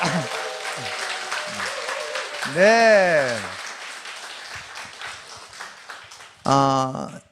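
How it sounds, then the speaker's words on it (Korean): A church congregation at a special Friday Holy Spirit service claps together amid voices and music, the applause rising in bursts under someone speaking and a crowd's sung tones. "옆 사람을 향해서 다 같이 뜨겁게 박수를 보내드리겠습니다"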